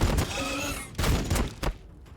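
Bolt guns firing in the video game Warhammer 40,000: Battlesector, a few heavy thudding shots in quick succession over a dense rumbling battle backdrop, loud and close.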